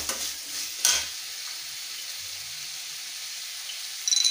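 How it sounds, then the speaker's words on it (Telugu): Peanuts fry in a pan while upma is being made, giving a steady close hiss and sizzle with a few brief clinks and stirring scrapes at the start and near the end. "వేరుశనగ పప్పులు కూడా ఫ్రై చేస్తున్నాం కొద్దిగా."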